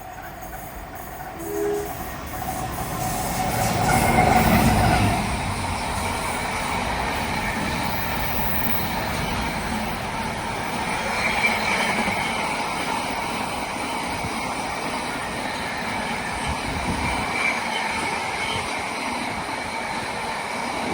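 A Leeds–Southampton intermodal freight train rumbles past near Doehill near Alfreton, with a steady, broad roar of wagons on the rails that swells early on and holds through the whole stretch.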